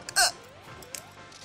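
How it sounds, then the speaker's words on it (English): One person hiccups during a Project M game session on Wii, a sharp loud burst at the start followed by a fainter catch and soft breathy sounds. "Thanks for giving me the hiccups, by the way."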